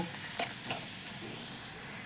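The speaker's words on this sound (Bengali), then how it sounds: "এবার পেঁয়াজটা একটু ভাজা ভাজা হলে" Soft, steady sizzle of onions frying in a pan, with a couple of faint utensil scrapes near the start; quiet and continuous.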